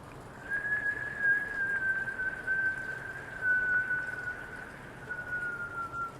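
During yoga breathing, a long whistling exhalation through pursed lips holds one thin, steady tone for several seconds over a soft breathy hiss, faint and close, with brief pauses.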